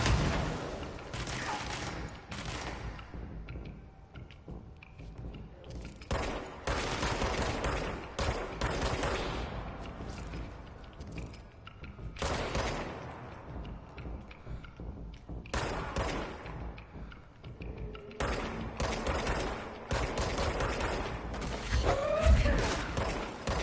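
Bursts of automatic weapon fire and rattling gunshots from the video game Control, repeated fusillades alternating with short gaps of mechanical clanks and creaks, loud and close throughout with a faint voice at moments.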